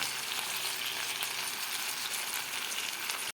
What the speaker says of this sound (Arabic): هغطيها هسيبها تتشوح مع بعضها كده شويه